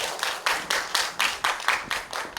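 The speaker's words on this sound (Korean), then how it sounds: "박수와 함께 모셔보도록 하겠습니다." Audience at a lecture event claps to welcome a lawyer speaker, a smaller group applauding in a loose, uneven rhythm of distinct bursts, fairly close and alone without talk.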